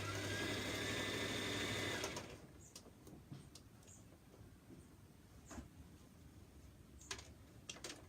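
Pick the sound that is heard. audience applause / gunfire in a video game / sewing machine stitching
sewing machine stitching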